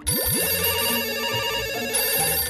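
A telephone rings, a bright, steady electronic bell tone starting right away and carrying loud and unbroken through the whole moment, with no one speaking.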